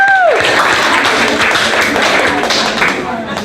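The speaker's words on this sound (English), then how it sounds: "Give yourselves a round of applause" A group applauds together at the end of an activity, dense clapping with a cheer mixed in, steady and close for the whole stretch before tapering slightly near the end.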